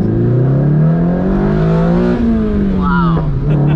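SR20-swapped Datsun 2000 Roadster revving at low RPM, a loud close engine note climbing in pitch then easing off, with people talking over it from inside the car.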